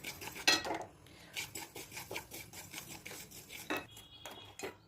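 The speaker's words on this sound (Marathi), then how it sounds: "तीळ हे भाजून घ्यायचे आहे सुरुवातीला." Sesame seeds are dry-roasted in a pan and stirred with a utensil, producing repeated gritty scraping strokes and rattling seeds in an irregular rhythm, close up and fairly quiet, with no talking.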